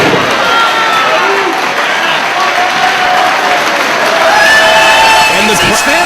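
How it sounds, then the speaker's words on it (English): A Ring of Honor wrestling crowd applauding and cheering loudly and continuously, dense clapping filling the arena with whoops rising near the end, a commentator talking over it. "The crowd very appreciative of Homicide's gesture."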